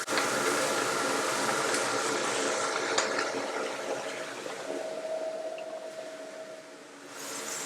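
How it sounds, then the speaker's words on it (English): New potatoes boil in a pot, bubbling and hissing at a steady boil, the watery rush filling the clip with occasional clinks. "The new potatoes is boiling now."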